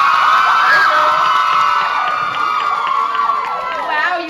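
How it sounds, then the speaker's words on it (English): An audience at a makeup competition cheers and whoops loudly for a contestant, a dense crowd roar with shouts and voices over it, sustained throughout. "you've got a whole front row cheering section"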